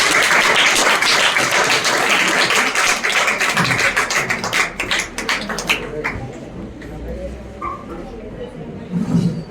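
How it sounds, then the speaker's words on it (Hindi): Children clap loudly and steadily at an award ceremony for an anti-drug poster-making competition, a dense applause that fills the room and then thins out and fades toward the end. "बच्चों जोरदार तालियां"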